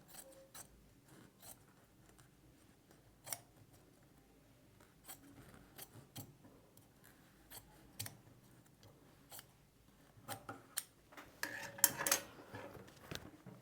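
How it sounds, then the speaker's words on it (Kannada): Scissors snip through a spare piece of blouse lining fabric, giving quiet, scattered crisp cuts that come faster and louder near the end, with no talking. "ಈಗ ಈ ಎಕ್ಸ್ಟ್ರಾ ಲೈನಿಂಗ್ ಪೀಸ್ ಏನಿದೆ ಇದನ್ನು ಕಟ್ ಮಾಡಿ"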